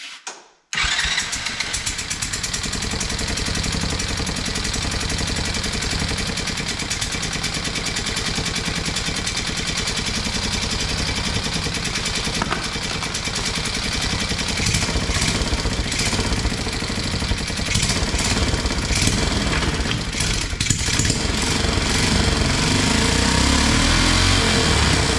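A Tao Tao buggy engine cranks and catches after a booster jump, then runs loud and steady at a rough idle, close by with no talking.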